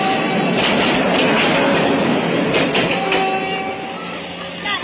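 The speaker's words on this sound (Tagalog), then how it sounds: "Yun pala, parating na ang tren." A train rolls past close by on railway tracks, a loud continuous rumble and clatter with rhythmic wheel clicks, easing slightly toward the end.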